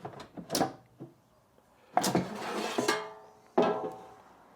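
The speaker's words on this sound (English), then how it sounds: "So first drawer in." The drawer of a Ninja dual air fryer is slid shut, giving a few sharp plastic knocks and clunks with a brief rattling slide between them, close and fairly quiet.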